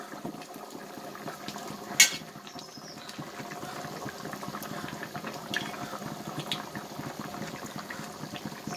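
A pot of red mullet fish curry simmering at a boil, a soft steady bubbling hiss with one brief clink near the start, close and fairly quiet, no voices.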